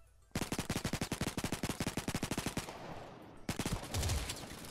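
Rapid automatic gunfire from a weapon in the online shooter Modern Strike Online, a loud, fast, evenly spaced burst of shots that stops abruptly, followed by a second burst with a low thump near the end.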